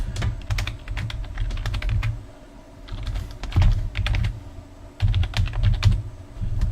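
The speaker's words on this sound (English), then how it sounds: "I'm gonna type in my mom's email" Rapid typing on a computer keyboard, a steady run of close key clicks with brief pauses between bursts, with no voices over it.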